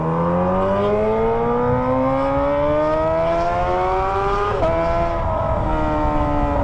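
A Kawasaki ZX25R motorcycle fitted with a Toce exhaust rides hard, its loud, close engine note climbing steadily in pitch through the revs, dropping briefly at a gear shift, then rising again.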